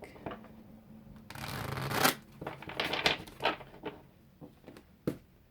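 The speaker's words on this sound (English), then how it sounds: "Let me just shuffle this deck" A deck of cards is riffled and shuffled close by, a dense burst of flicking followed by several shorter taps and riffles.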